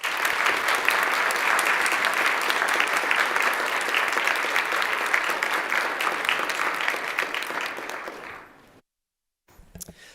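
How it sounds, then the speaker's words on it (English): Sustained applause fills an assembly floor session, a dense, loud wash of clapping hands for about eight seconds that fades and cuts off, followed by brief faint sounds. "giving them a round of applause"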